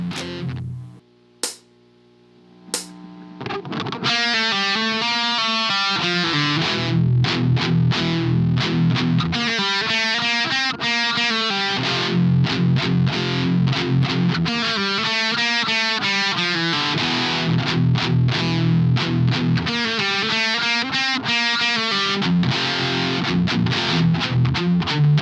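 A distorted electric guitar plays a percussive F5 riff that alternates palm-muted F pedal tones with chugging power chords. The phrases repeat loud and steady after a few short plucks at the start.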